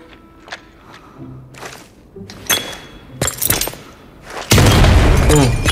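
A bomb detonates in a first-person shooter match, a heavy booming blast arriving near the end after scattered thuds, impacts and gunfire-like cracks.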